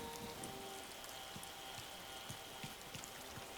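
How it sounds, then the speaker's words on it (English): Steady rain patters in Animal Crossing: New Horizons on a spooky island, a soft continuous wash with scattered drips, no thunder evident and no talk. "how did they get it so it's raining and thundering?"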